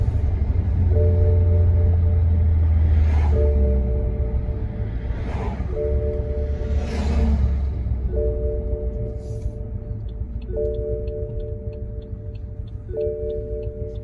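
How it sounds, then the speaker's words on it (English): BMW E65 engine idling roughly with a misfire after a spark plug change, a steady low rumble broken by periodic stumbles and a faint repeating chime, close by with no talk. "I can tell that's misfire"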